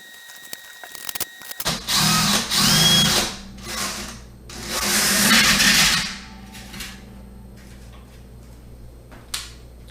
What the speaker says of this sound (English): So what I'm going to do then is tape this on and drill it out.